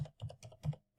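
A command is typed on a computer keyboard as a quick burst of four or five close key clicks in about a second, clear and alone.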